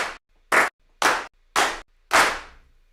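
Five crisp, punchy clap samples in a music production, evenly spaced about half a second apart, each a sharp close snap with a short tail, the last slightly longer.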